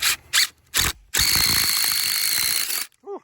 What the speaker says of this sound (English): you come out and you drill your hole from the other side